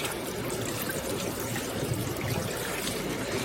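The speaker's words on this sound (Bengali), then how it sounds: "এই দেখো মাছটা আমি ভালো করে ধুয়ে নিচ্ছি।" Running tap water pours steadily over a fish being rinsed by hand, a continuous close trickle and splash with no break in flow.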